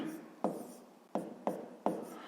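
Pen strokes on paper while writing out a fifth-grade maths exercise, four distinct scratchy strokes spaced through a quiet room, close and soft, with no talking.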